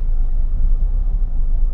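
Cars crawl through a traffic jam on the road from Baras, Rizal, past Teresa toward Quezon City, producing a heavy, steady low engine rumble that sits close with no talk over it.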